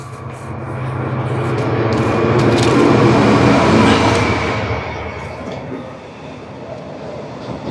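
A train rumbles past on railway tracks close by, a loud broad roar that swells to a peak midway and then eases off, with no talk over it.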